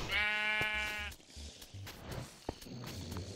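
Sheep bleating inside a video game, one loud drawn-out bleat up front followed by quieter game sounds and scattered clicks.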